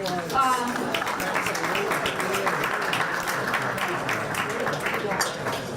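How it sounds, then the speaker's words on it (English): Crowd clapping at a business appreciation breakfast, moderate and continuous, with voices and talk running over it across the whole stretch. "give yourselves a round of applause"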